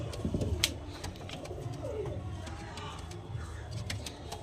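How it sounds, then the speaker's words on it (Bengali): Pigeons cooing softly in a loft or market setting, a female among them, with low repeated coos under a busy background of other birds and faint voices. "মাদা পায়রা"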